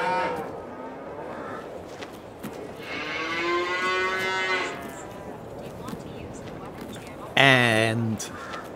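Brown Swiss cattle, a rugged Alpine breed, moo several times: a long low call mid-clip and a louder, closer bellow near the end, with softer lowing and farm background in between.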